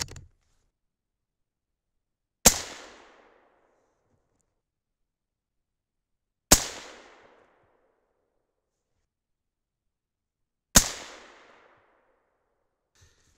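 Three 6.5 Creedmoor rifle shots at roughly four-second intervals, each a sharp loud crack with a short decaying tail, silence between them.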